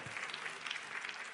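A talk-show studio audience claps steadily for a woman called up from the seats, a brief, fairly faint burst of dense applause with no clear voices over it.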